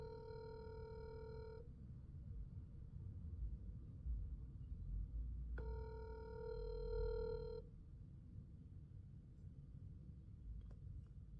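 A phone rings on speakerphone, turned up loud: two long electronic ring bursts about four seconds apart over a low rumbling background, with no talking.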